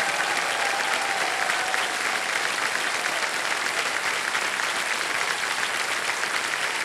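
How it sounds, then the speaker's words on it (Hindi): Studio audience applause on the quiz show Kaun Banega Crorepati, a dense, steady wash of clapping that holds at full level without a break. "ताली बजते रहे,"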